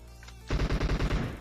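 Rapid automatic gunfire from a video game erupts suddenly after a quiet moment, a close, loud burst of about eight evenly spaced shots.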